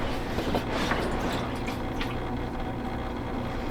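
A hot tub pump runs with a steady low hum and a soft trickling wash of water, close and continuous, with no jets or bubbles going.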